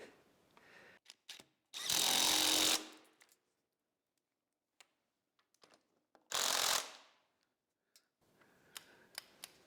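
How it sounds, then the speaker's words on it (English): A power tool drives bolts into the lift arm assembly of an Allis Chalmers D17 tractor in two loud, close bursts of about a second each, separated by quiet clicks and small metallic handling noises. "Let's go ahead and get some bolts in this thing."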